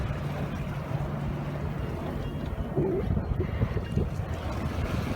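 A sailboat flying its spinnaker in light wind, with steady rushing water and wind noise against the hull throughout, close and continuous.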